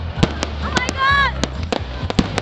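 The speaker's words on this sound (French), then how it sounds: "Vous avez vu ces feux d'artifice?" At a Saint-Jean-Baptiste festival, fireworks crack in quick close bangs, with a brief whistling streak in the middle and a low crowd murmur underneath.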